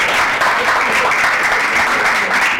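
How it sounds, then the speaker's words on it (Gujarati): Sustained audience applause welcoming a guest speaker at a Gujarati literary event, a dense steady wash of many hands clapping close and loud throughout, with a faint voice underneath. "જ્યાં સુધી ના બેસે ત્યાં સુધી આપણે એમને ખૂબ તાળીથી આપણે અભિવાદન"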